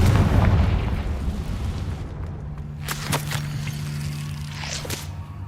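A Confringo fire spell goes off in Hogwarts Legacy, a heavy explosive boom at the start that rolls into a long rumbling tail, with a few sharp magical crackles and bursts following.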